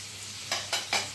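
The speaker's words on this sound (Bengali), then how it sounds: "একটু হালকা করে এপিট এপিট করে ভেজে দেবো।" Paneer cubes frying lightly in a pan with a soft, constant sizzle. Three short scraping stirs rise above it in quick succession.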